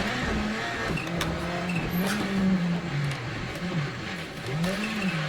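Rally car lapping a track in the racing game Assetto Corsa, its engine note climbing and falling through gear changes and revs, with occasional tire scrub, steady and close.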